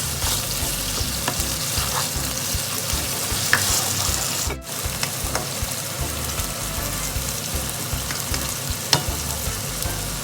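Chicken frying with fish in an oily pan for pinakbet, a vigorous continuous sizzle with crackles and occasional stirring clatters, loud and close, including one brief dip when pieces hit the oil.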